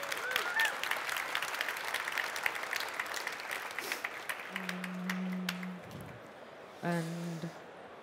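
Audience applause after a startup design and marketing talk: soft, distant clapping fades out over several seconds, with faint voices and a couple of short tonal beeps near the end.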